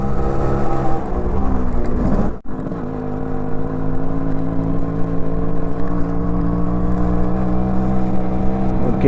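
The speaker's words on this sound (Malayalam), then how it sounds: "വണ്ടിയുടെ ആ ഒരു എക്സോസ് നോട്ടിൻ്റെ സൗണ്ട്" A Yamaha RXZ 5-speed motorcycle engine drones and rumbles while riding, its exhaust note steady and close, briefly dipping as the throttle is cut, then pulling strongly again.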